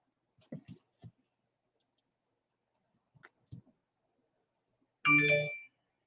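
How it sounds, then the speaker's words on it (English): A mobile phone ringing during a cross stitch needle case session: a brief, clear electronic ring tone near the end, preceded by a few quiet clicks and soft movement sounds in an otherwise hushed room. "Sorry about that, it's my phone."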